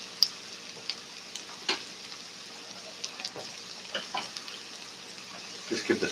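Bacon being reheated in a pan while cooking haluski, a soft, close sizzle with scattered small pops and ticks, quiet and intermittent with a few clinks near the end.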